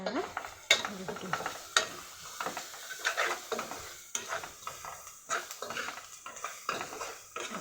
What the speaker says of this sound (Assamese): চিকেনটো অলপ দিলোঁ চাট মছলাখিনি তেলেৰে ভাজি থাকিম